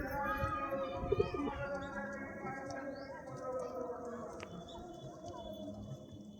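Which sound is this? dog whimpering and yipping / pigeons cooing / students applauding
pigeons cooing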